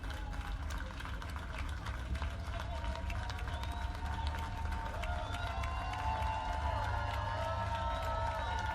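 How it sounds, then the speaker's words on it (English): Applause and cheering from a crowd in the video game Slay the Princess, a steady, dense wash of clapping and crowd noise that fills the whole stretch at an even level, with a musical tone rising underneath partway through. "Oh, I like these claps though."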